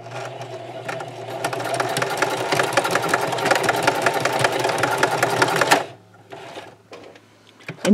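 A sewing machine stitching elastic on a scrub cap runs in a loud, close, rapid rattle for about six seconds, then stops abruptly, followed by faint handling noises and a small knock at the end.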